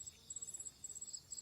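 Bees at a wild nest being smoked out from a hollow among deep roots give a faint, steady high-pitched buzz with a pulsing, flickering rhythm, heard alone against a quiet background.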